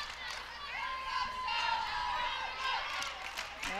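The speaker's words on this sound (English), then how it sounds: "Now the JV team's cheering on their varsity for Sholo." A JV team cheering on their varsity squad at a high school volleyball match on senior night, a sustained mid-distance crowd roar with whoops rising and falling over a few seconds, with a commentator talking over it.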